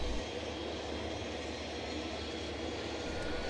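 Number two engine of a Dash 8 turboprop starting in a flight simulator, a steady broadband roar with a low rumble, constant and loud throughout.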